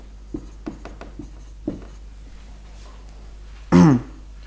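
Pen writing numbers on paper, a handful of short scratchy strokes in an irregular rhythm, close and fairly quiet, followed by a brief louder cough or throat clearing near the end.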